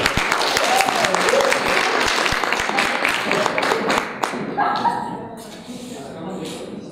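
Audience applause welcoming a nutritionist interview guest onstage, a dense patter of clapping that thins and fades after about four seconds, with some voices and shuffling underneath.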